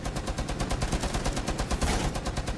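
Sustained automatic gunfire in the online shooter Rainbow Six Siege on PS4, a dense, loud, fast rhythmic stream of shots filling the whole stretch without pause, with no audible talk.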